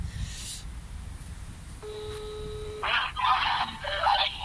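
A phone call placed on speakerphone gives a steady electronic ringback tone for about a second. Bursts of brighter tonal sound and a faint voice follow right after.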